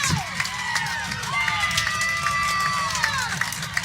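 A baseball crowd roars and cheers after a grand slam home run, a sustained loud wash of shouting and whistles with voices over the noise.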